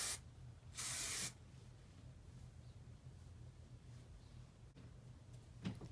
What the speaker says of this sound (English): And there's never enough hairspray,